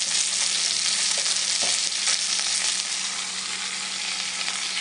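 Four chopped carrots sizzle and fry in a pot for a pot roast, a loud, steady crackling hiss that continues without pause.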